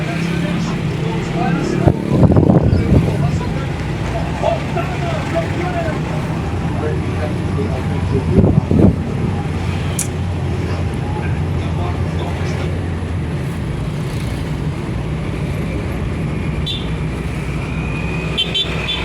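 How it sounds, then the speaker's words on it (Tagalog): Busy street traffic in Subic hums continuously, with passing vehicles swelling louder twice and a constant engine rumble beneath voices talking throughout. "Daming sasakyan dito sa Subic. Bising-bising kalye."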